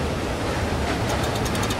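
Water in the LIMBO video game, a steady, loud rushing wash like surf that fills the short moment evenly, with no voices.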